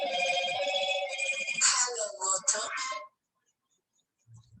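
An electronic telephone ringtone rings loudly for about three seconds as a repeating melodic trill, then stops, followed by near silence with a faint low sound at the end.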